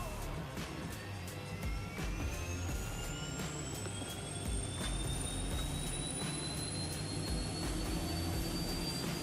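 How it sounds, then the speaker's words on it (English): Aircraft auxiliary power unit spooling up on the ground, a rising turbine whine sweeping steadily upward over a broad rushing roar, with sharp clicks scattered throughout. "Here we go, we are starting our APU first."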